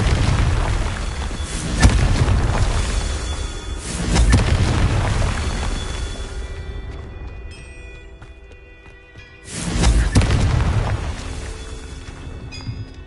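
Confringo fire spell explosions in the video game Hogwarts Legacy, repeated booming blasts with rumbling tails, loud and close over game ambience.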